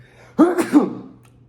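A single close, loud sneeze bursting out in two quick parts, followed by a brief fade to quiet room tone.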